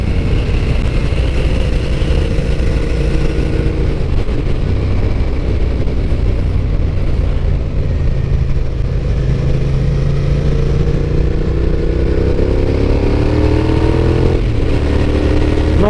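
A Suzuki SV motorcycle engine runs and revs on a forest road, loud and close, with rising and falling engine pitch through repeated acceleration and no talk.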